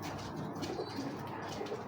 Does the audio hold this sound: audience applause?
no